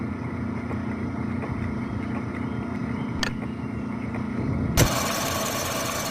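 A metal lathe that has just been switched on runs with a steady mechanical hum and rumble, with a sharp clack near the end before the machine carries on with a brighter, harsher whir.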